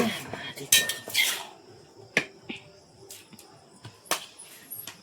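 Plates, dishes and cutlery clink and clatter at close range in a home kitchen while food is served, in scattered sharp hits with quiet gaps.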